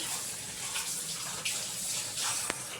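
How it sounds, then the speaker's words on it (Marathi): Water is poured into a pot of chickpea curry, a steady, soft gushing splash running throughout without any talking. "अजून थोडं पाणी जाणार आहे"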